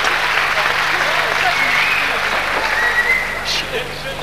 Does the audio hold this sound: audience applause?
yes